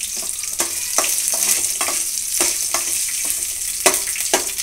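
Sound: potato pieces frying in a pan

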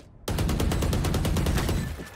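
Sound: gunshots in the video game Valorant

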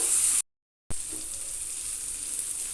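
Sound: chopped tomato sizzling in pan with egg bhurji

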